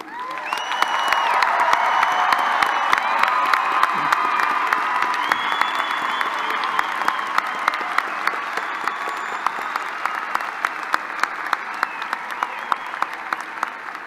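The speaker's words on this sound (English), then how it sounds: "I ask the audience for another round of applause to recognize your achievement" A large crowd at a fall university commencement ceremony applauds at length, a sustained, full roar of clapping with some cheering mixed in, gradually thinning toward the end.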